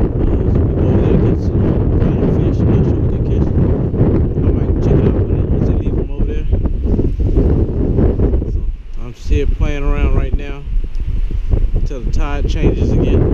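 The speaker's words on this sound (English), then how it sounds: "It's very, very windy today" Strong gusting wind on Jekyll Island, Georgia, roars across the microphone throughout, a loud broadband rush that buffets constantly, with a brief lull near the end.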